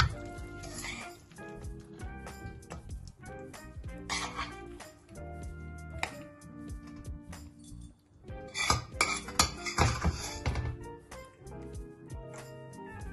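Lamb dhaba karahi gosht being dished out of a metal pan: repeated clinks and scrapes of a spoon against the pan and a serving dish, close and irregular, growing busier toward the end, with a cough partway through.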